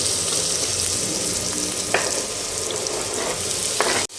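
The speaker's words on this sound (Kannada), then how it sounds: "ಇವಾಗ ಈರುಳ್ಳಿನ ಫ್ರೈ ಮಾಡೋಕ್ಕೆ ಹಾಕೋಬೇಕು" Onions frying in hot oil in a pan after mustard seeds, asafoetida and turmeric went in, giving a steady close sizzle with a couple of brief stirring clicks and no talking.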